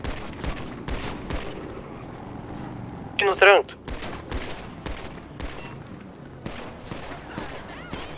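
Gunfire in a 1990s-themed police roleplay video game: bursts of sharp shots crackle through the clip, with one loud close volley in the middle, under tense voice chat from players.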